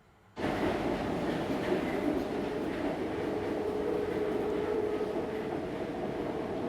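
A metro subway train running underground, bursting in abruptly and then rumbling and roaring steadily and loudly throughout, with a faint squealing tone riding over the wheel noise.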